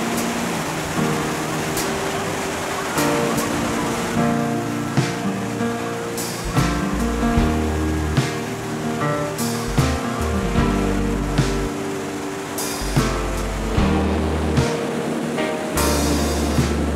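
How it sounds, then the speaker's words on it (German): The turquoise Rio Baker in Patagonia rushing along as a broad, steady wash of water noise, loud and continuous, with intermittent sharper bumps and thumps over the flow. "Der Rio Baker ist ein ganz schön stattlicher Fluss"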